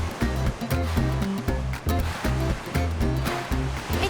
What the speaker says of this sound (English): That's the sound of the dried pasta zooming down the helter-skelter into the bags below.